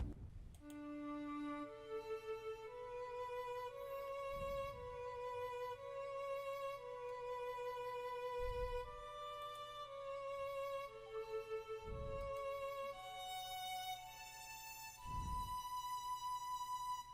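A sampled solo violin from the Expand 2 strings category plays a slow, sustained melody of held bowed notes over a soft repeating low drum hit in an FL Studio beat remake, with no talking.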